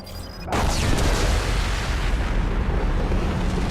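A large explosion in the video game Mass Effect 2 bursts in with a sudden loud boom, then rumbles on as a dense, sustained roar for several seconds.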